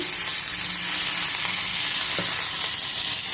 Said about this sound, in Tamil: உளுத்தம்பருப்பு, வரமிளகாய், கருவேப்பிலை இதெல்லாம் தாளிச்சிட்டு